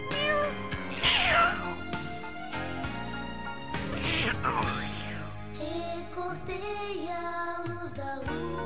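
A cat meows loudly twice, near and clear, over music playing throughout.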